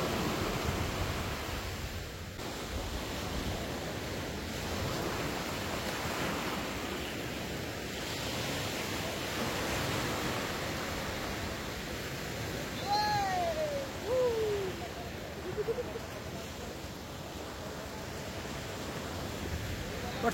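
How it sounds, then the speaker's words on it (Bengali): Sea surf rolls steadily onto the beach at Mousuni Island, a continuous broad wash of waves with no clear breaks. A brief whistling tone rises and falls over it near the end. "চোখ বন্ধ করে এই ঢেউয়ের আওয়াজটা শুধু ফিল করতে পারো"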